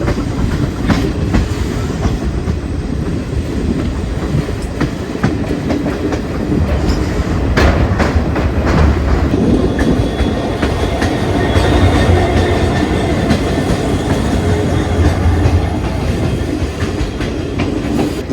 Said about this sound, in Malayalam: ഗാർഡ് സെക്ഷനിൽ കൂടെ മെയിനായിട്ട് പോകുന്ന ഗുഡ്സ് ട്രെയിനാണ് കേട്ടോ